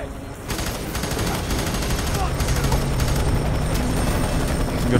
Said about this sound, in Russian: сейчас вертолет сгрузит робота